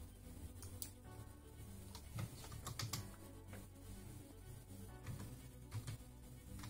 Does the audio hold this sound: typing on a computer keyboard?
yes